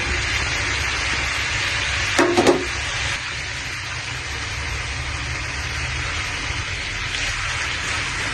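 Sliced onions drop into a hot pan of Kerala-style chicken thoran with a brief clatter, followed by a steady, close sizzling hiss that carries on unbroken.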